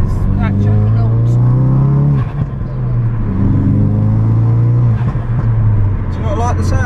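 Ford Focus RS fitted with an Armytrix exhaust revs loudly, its engine droning and rising in two long sustained pulls with a brief dip between, close and dominant while people talk over it.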